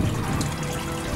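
A single strong spout of water pours from the front of a circulation and filtration setup for a tarpaulin pond, a dense, steady splashing rush heard up close and alone.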